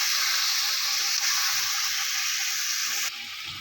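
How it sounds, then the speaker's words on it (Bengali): Marinated Bombay duck fish frying in a hot pan with cumin and bay leaf, a loud steady sizzle running throughout while it is stirred, dropping slightly quieter near the end. "মাছটা দিয়ে একটু নাড়াচাড়া করে নিচ্ছি।"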